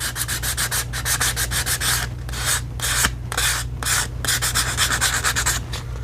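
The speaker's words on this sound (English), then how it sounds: "we're going to scuff up this side of it" Sandpaper scuffs rhythmically across the surface of a custom one-piece gun grip, close and loud, in repeated back-and-forth strokes over a low steady hum.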